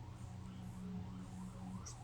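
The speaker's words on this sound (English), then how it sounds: "Sirens." Faint, distant emergency-vehicle siren wailing steadily far off, low and continuous, heard alone without talk.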